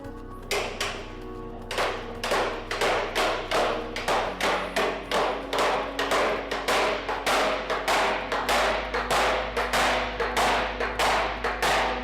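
Workers hammer working hoops down onto an oak wine barrel at a cooperage, a steady run of loud, evenly spaced ringing blows over more than ten seconds with no talk.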